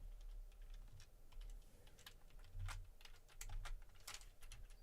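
Steady typing on a computer keyboard, with quick irregular key clicks in bursts and a few heavier strokes, close and fairly quiet over a low background hum, with no talking.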